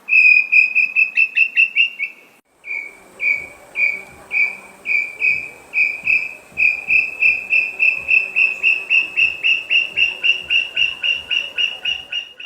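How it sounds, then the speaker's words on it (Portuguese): Wild birds sing in a close, loud, rhythmic run of repeated high, piercing notes. The phrase restarts after a short break and keeps a steady pulse to the end. "é no período reprodutivo que essas aves cantam com mais frequência."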